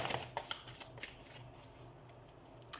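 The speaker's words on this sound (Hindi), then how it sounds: "तो हम कार्ड शफल कर लेते हैं" Tarot cards shuffled by hand, giving soft, close riffling and flicking bursts at an uneven rhythm, faint and quiet without any talk.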